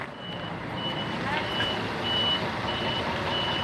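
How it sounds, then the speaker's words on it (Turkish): A bus arriving from an earthquake-stricken region backs up outdoors, a steady series of high reversing beeps sounding over a continuous engine rumble and broad traffic noise. "deprem bölgesinden gelen otobüs bu"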